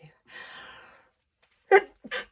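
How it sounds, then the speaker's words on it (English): A soft breathy intake is followed by a sharp, single sneeze and a short burst of voice right after, close to the microphone. "Sorry, I'm going to sneeze."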